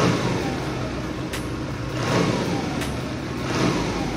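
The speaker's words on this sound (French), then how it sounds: "Et ça démarre au quart de tour." A Honda CM 125 C motorcycle runs just after starting, following a carburettor cleaning. The engine holds a steady close idle with slight swells and a few sharp clicks.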